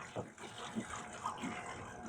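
Water sloshing and splashing as it drains out of the engine of a barn-find Camaro that sat for 32 years, in a few uneven gurgling spurts at close range with no talking.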